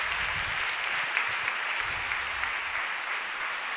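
A large audience at a women-in-tech event breaks into dense, steady applause, a continuous wash of many hands clapping at once, loud and sustained with no speech on top.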